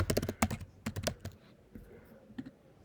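Keys clatter on a computer keyboard during account sign-up, a quick burst of close, crisp clicks followed by a pause and a few softer scattered taps.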